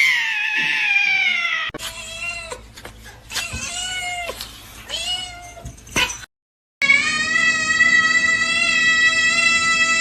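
A cat meows repeatedly and loudly up close, drawn-out wavering cries with some yowling caterwaul tones, a brief silent gap, then a long sustained meow to finish.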